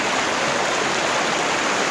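River water rushes in a steady, close flow at a riverside bathing and washing spot in El Salvador, with a dense, even hiss and no voices.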